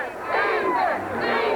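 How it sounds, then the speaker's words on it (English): Loud Amite home crowd roaring and yelling at a 1992 high school football game against Independence, a dense sustained cheer swelling and holding steady throughout. "The Amite crowd, extremely loud."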